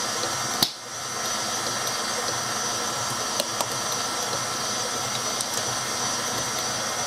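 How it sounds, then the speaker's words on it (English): An electric mixer blending cheesecake batter, a steady whirring motor drone with occasional faint clicks and a sharp knock early on, continuing evenly and fairly loud. "And we're going to let it blend well. I'm going to turn it up a little."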